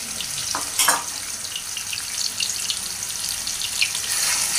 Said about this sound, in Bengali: এখানে ছোটো সাইজে 6টা পেঁয়াজ আমি তেলে একটু ডুবে দিলাম